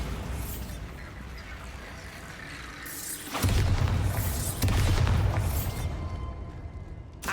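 A Bombarda blasting spell explodes in the Hogwarts Legacy video game, a sudden heavy boom after a quieter stretch, followed by rumbling debris and a second burst before fading.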